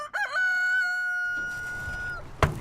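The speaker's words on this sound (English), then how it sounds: "We have chickens that produce all of our own eggs." A rooster on a small organic farm crows once, loud and close, in a drawn-out call. A brief cluck or flutter follows near the end, with no voices.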